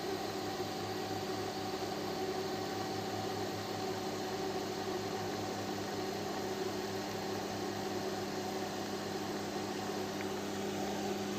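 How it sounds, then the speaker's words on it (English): Magnatech D-Head orbital welder running along the seam of schedule 10 stainless steel pipe with wire feed, a steady, fairly quiet mechanical hum and buzz that stays unchanged throughout. "We're welding right on that seam where we want it to be."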